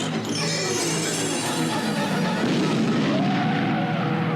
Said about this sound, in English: Kaboom! There was a terrific explosion